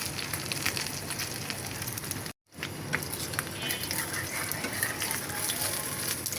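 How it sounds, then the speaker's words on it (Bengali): Eggs frying in a pan, a constant crackling sizzle heard close, cut by a brief total dropout before resuming steadily. "ডিম ভাজতে থাকবো।"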